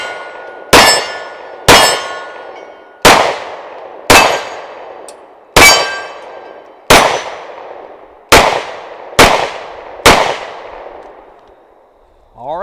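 A TISAS 1911 Stingray pistol fires nine separate, deliberately spaced shots at an outdoor range, each a loud close crack followed by a ringing clang from a steel target. Then a short noise sounds at the end.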